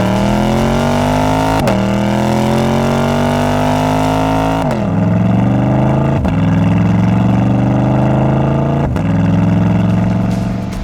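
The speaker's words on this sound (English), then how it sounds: "This no muffler, non-NPP valve exhaust performs much like our muffler delete system" A mid-engine Chevrolet Corvette C8 with an aFe Power MACH Force-Xp cat-back exhaust, no mufflers and no NPP valves, revs loudly and up close in repeated climbing pulls, each sharply cut off before the next rise.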